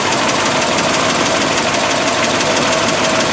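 A 1955 Buick Century engine idles steadily after a cooling system flush with new antifreeze and a thermostat fitted, a loud, continuous close-up running hum with a faint knocking texture and no talk.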